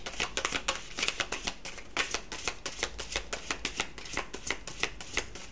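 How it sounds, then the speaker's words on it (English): A deck of tarot cards is shuffled by hand over and over, giving quick, close riffling and slapping bursts in an irregular rhythm, with no talking. "I'll just give them another shuffle here."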